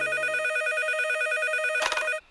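A cartoon telephone rings loudly and steadily in a repeating electronic trill, with a brief clattering burst near the end as the receiver is picked up, then silence.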